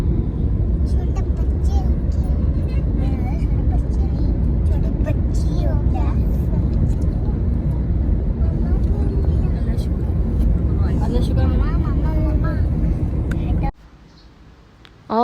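A car cruises along a highway with a steady loud road and engine rumble throughout, people talking inside the car over it, then the noise drops abruptly near the end.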